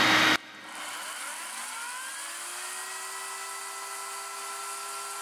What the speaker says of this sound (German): So, jetzt stecke ich nochmal die Kettensäge ein.